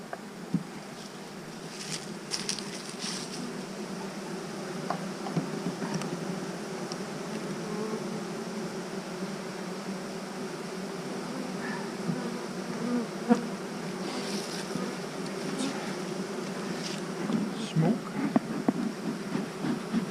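Honeybees from an overwintered hive drone steadily in a dense, continuous buzz, close and sustained throughout, with individual bees passing near now and then.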